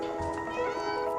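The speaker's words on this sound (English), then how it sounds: "they even have a dedicated button just to let you meow" A single drawn-out cat meow from the video game Stray, clear and close, with a bright tonal quality.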